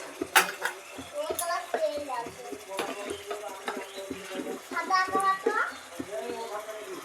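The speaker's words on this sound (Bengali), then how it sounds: "ভালোভাবে মশলাটা কষাতে থাকবো" Masala with turmeric and a little water being stirred and fried in a pan for a jackfruit dish, with repeated scraping and clinks of a spoon against the pan, while a voice and other voices are heard nearby.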